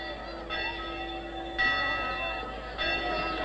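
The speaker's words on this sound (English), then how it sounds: "The chapel bells will give them the signal for the off." Chapel bells ring as a starting signal in a 1953 comedy film, three resonant strokes about a second apart, each with a long humming decay, heard moderately distant and alone.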